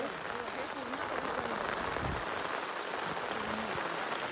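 Heavy rain falls at the Unhavare hot water spring in Dapoli, a continuous, even hiss of drops with faint voices underneath.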